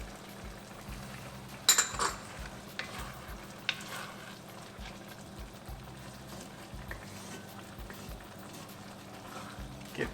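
Kadai mixed vegetables with garam masala and kasuri methi are stirred in a pan: gentle sizzling under scraping and a few sharp utensil clinks against the pot, fairly quiet and close.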